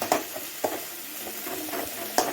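Soft, wet squishing and scraping of cooked lentils being mashed in a pot, a few irregular strokes with faint clinks, close and quiet.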